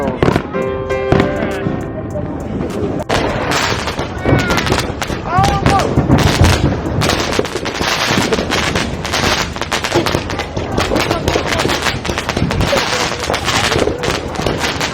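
Homemade Fourth of July backyard fireworks show, with dense rapid crackling and popping bursts going off continuously, loud and close, while people talk over the explosions.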